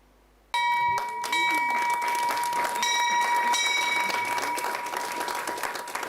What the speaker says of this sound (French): La cloche qui sonne dans cette salle retentit à la fois au Maroc, au Botswana, au Kenya